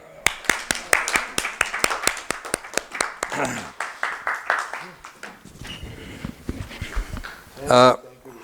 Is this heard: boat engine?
no